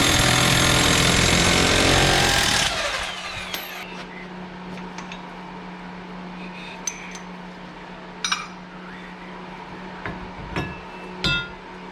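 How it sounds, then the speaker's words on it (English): An impact wrench hammers loudly for about two and a half seconds, removing the rear axle nut on an Arctic Cat Wildcat 1000 HO, then stops, leaving a low hum and scattered metallic clinks of tools. "I will use the impact simply because it's faster and it's easier."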